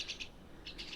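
Small garden birds chirping in short bright bursts, a pair of quick tweets, a pause, then several more, over a quiet outdoor background.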